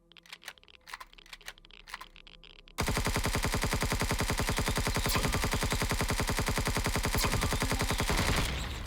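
Sentry guns in the sci-fi game Empyrion Galactic Survival open fire in a loud, sustained rapid-fire burst of mechanical shots after a few scattered clicks and taps.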